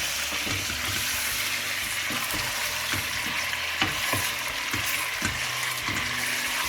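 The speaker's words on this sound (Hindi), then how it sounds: "इसको थोड़ा सा भून दूँगा" One kilogram of chicken thigh pieces sizzle in a hot pan while a utensil stirs and scrapes with regular knocks, close and continuous, no voices.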